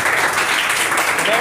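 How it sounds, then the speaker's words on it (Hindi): A studio audience at a spoken English sentence practice round gives a brief, dense burst of applause, steady and close, with voices mixed into the clapping. "एक बार और जोरदार ताली"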